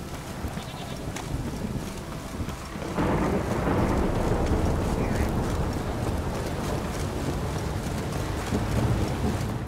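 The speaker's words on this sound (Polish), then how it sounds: "On tu ciągle pada w tej grze." Rain pours steadily in The Witcher 3: Wild Hunt, and a deep thunder rumble rolls in partway through and lingers loud beneath the downpour.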